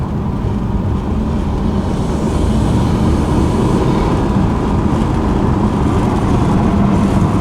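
A 2017 BMW F30 330i fitted with a BMS B48 intake pulls hard under acceleration, heard from inside the cabin as a loud, steady, dense engine and road drone with no break.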